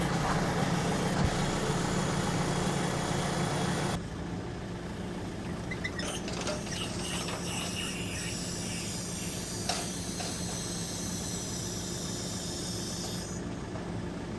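Large tractor running while its hoe unfolds, a steady low engine rumble with hissing hydraulic noise that changes abruptly partway, followed by faint clanks and creaks from the moving implement.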